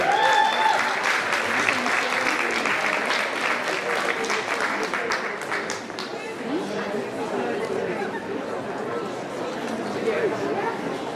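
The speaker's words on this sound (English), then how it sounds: "a round of applause, ladies and gentlemen, please" Sustained audience applause at a dance competition presentation, steady dense clapping from a large crowd with background chatter throughout, beginning over a fading announcement.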